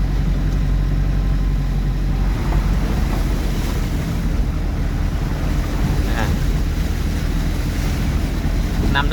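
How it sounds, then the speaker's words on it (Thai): Floodwater rushes across a road at Ban Dong Bun in Xonnabouly district, Savannakhet, as a steady, loud broadband roar with gusty wind buffeting the microphone throughout. "น้ำไหล"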